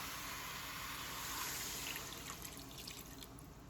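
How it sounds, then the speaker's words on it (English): Water pours steadily into a pot of curry chicken seasoned with black pepper, a continuous splashing trickle that stays fairly loud and close and fades only slightly toward the end, with no voices. "Let's add a little water."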